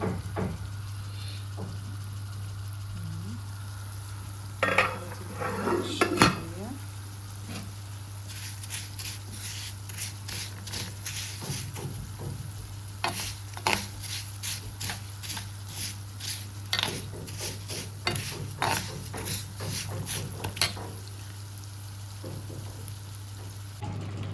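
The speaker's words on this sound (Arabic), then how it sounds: "زي ما انتوا شايفين كده اهو حاطين العدس" Lentils and vermicelli simmer and fry in a pot for lentil soup, a steady low sizzle with repeated scraping stir strokes and light clatters spread through the clip, fairly close.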